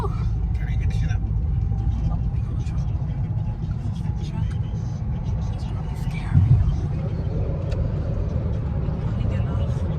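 A car cruises along a highway on a hot day, its steady low road rumble and engine drone running throughout, with people chatting inside the cabin over the noise.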